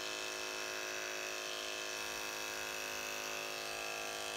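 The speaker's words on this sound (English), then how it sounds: "I'm just going to shave it off one little layer at a time" Electric clippers shaving Angora rabbit wool from the belly, a steady close motor buzz and whine held at constant pitch without pause or talk.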